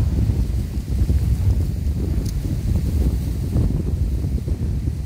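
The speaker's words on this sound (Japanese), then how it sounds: "お昼頃からかなり風が強くなってきました" Strong spring wind at Norikura Kogen highland in Japan buffets the microphone in a steady, loud low roar, with gusty rumbling throughout and no voices.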